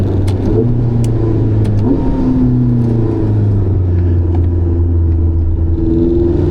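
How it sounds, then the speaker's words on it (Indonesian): Ferrari 849 Testarossa engine accelerating on a small, winding track, a loud, sustained near roar with steady harmonic drone and shifting pitch through the run, no voices. "Aduh, suara mesinnya merdu benar."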